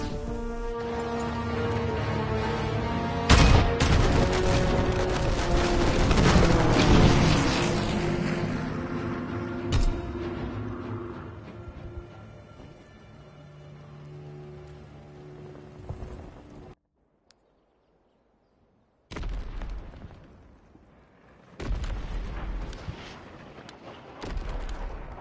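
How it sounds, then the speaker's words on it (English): Heavy anti-aircraft guns and artillery pound away in a wartime video game, booming blasts and rumbling barrages layered densely for long stretches, then a brief silence before more bursts of fire. "a battery of AA guns that's shooting down our bombers"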